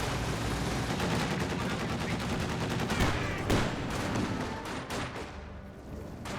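Rapid machine-gun fire from a half-track in the Company of Heroes 2 video game. Dense, continuous bursts run for about six seconds against loud battle noise, with several sharp reports standing out near the middle.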